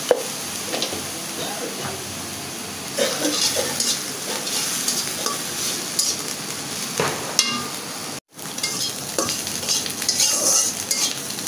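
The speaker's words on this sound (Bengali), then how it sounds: "চিংড়ি মাছটা কিন্তু সুন্দর করে আমি ভাজা ভাজা করে নিছি।" Shrimp seasoned with salt and turmeric fry and sizzle steadily in a pan, with a spoon or spatula scraping and stirring through them close up, one brief pause near the end, no talking.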